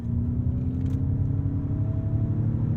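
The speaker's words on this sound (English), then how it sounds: "The propulsion sound is fun." A Ford F-150 Lightning electric pickup accelerates under its synthetic propulsion sound, a steady low hum with a slowly rising tonal whine over road rumble, heard from inside the cab.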